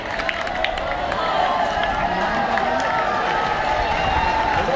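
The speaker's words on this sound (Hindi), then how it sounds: "सभी बच्चे जोरदार तालियों से स्वागत करें" A crowd of schoolchildren claps and cheers at a science fair flag hoisting ceremony, a dense steady wash of applause with voices mixed in, loud and sustained throughout.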